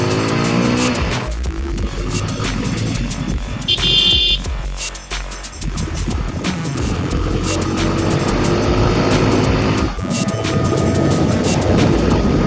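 A motorcycle ridden on a rough, unpaved rural road in Assam, its engine droning loud and close throughout with shifting revs and a brief dip midway.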